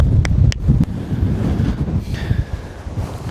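Strong gusty wind buffets the microphone on a Peak District hilltop near a trig point, a loud continuous low roar with a few sharp knocks, and no voices.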